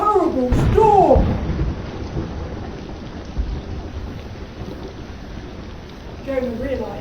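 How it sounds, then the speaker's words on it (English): A rumbling thunderstorm at sea with rain and wind, loud at first with low crashing swells and then a steady stormy roar, with voices speaking over it at the start and again near the end. "What shall we do to stop this terrible storm?"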